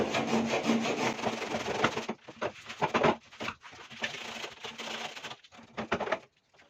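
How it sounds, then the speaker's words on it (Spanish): Sandpaper rubs back and forth across the wooden seat-fixing plate of a wooden kayak before laminating, raspy close strokes that run continuously at first and then come in shorter bursts with brief pauses, while birds coo faintly in the background. "Como siempre, antes de cualquier laminación, damos un poco de lija."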